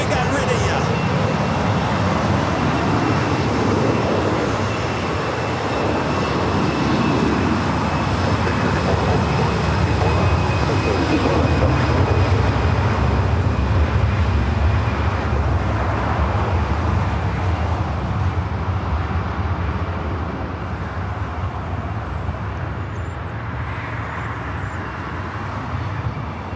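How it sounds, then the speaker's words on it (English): Airbus A319 airliner departing LAX for Portland, a steady loud engine roar that holds throughout with broadband jet rumble, traffic noise mixed in, and a voice speaking over it. "That's an A319 heading to Portland."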